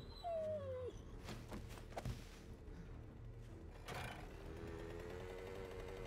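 A dog in the survival video game 7 Days To Die whimpers and yips in the first second, followed by loud game sounds and clatter running throughout.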